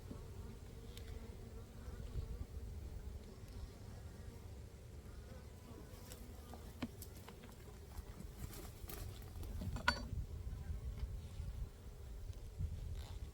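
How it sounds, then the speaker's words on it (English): Low, steady droning hum of honey bees inside a hive, with scattered faint clicks and rustles over the continuous buzz. "there's a lot of brood in here and there's a lot of bees"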